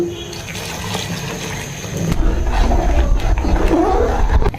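Hot water poured into a cooking pot of fried rice for khichuri, a steady rushing splash that swells louder partway through and rises in pitch as the pot fills.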